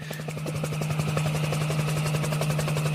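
Steady helicopter rotor chop with a strong droning hum, continuous and fairly loud throughout, heard overhead in news footage with no talking.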